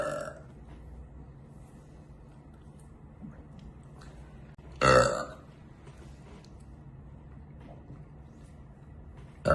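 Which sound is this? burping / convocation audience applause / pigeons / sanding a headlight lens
burping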